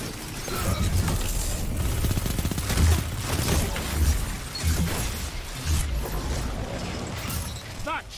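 Rapid weapon fire from a Destiny 2 player-versus-player match crackles steadily throughout, with dense bursts of shots and impacts and a voice talking over the action.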